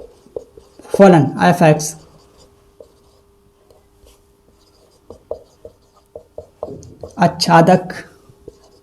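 Handwriting during a Class 12 maths lesson on functions: faint, scattered scratches and taps of a pen or chalk fill the pause between two stretches of a teacher speaking.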